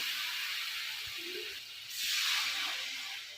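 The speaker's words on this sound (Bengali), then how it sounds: "কষানো হয়ে গেলে জল দিয়ে" Water poured into a hot pan of sautéed ingredients gives a soft steady hiss that swells briefly toward the end, faint and close, with no talking.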